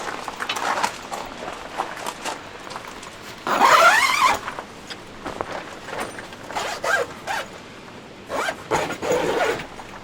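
A zipper runs along the zippered entrance of an overland vehicle shower awning in one long close pull, with quieter rustling and smaller fabric handling sounds around it.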